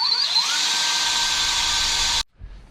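A power drill drives screws to fix a wall mount bracket for a Cubic Mini woodstove, one close, loud high whine that holds for about two seconds and then stops abruptly, followed by a soft handling thump.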